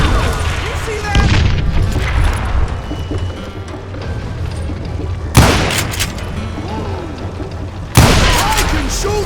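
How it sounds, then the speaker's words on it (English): Gunfire rings out in the western shooter game Call of Juarez Gunslinger: a few loud, sharp shots cut through busy in-game action while character voices speak. "I can shoot too!"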